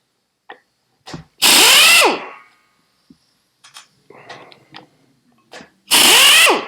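A power tool with a socket loosens a bolt during the strip-down of a Citroen 425cc engine: two loud, close bursts of whirring and rattling, separated by quiet clicks and clanks of handling.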